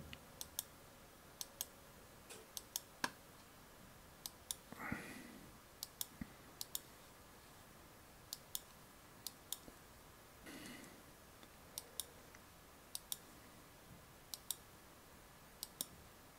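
Computer mouse clicks while masking photos in Lightroom, sharp isolated clicks in small clusters and singles spread throughout, close and fairly quiet, with a couple of soft low rustles between them.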